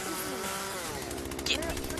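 Buzzing two-stroke chainsaw in the video game Yeeps, revving briefly and faintly under excited talking in a short burst.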